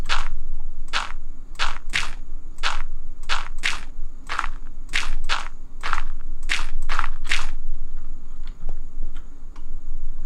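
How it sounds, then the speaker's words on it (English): Dirt blocks are placed one after another in Minecraft, giving about fifteen crisp, crunchy thuds at a fairly steady, quick rhythm, each short and close, with nothing else heard. "we're just going to fill the area in with dirt"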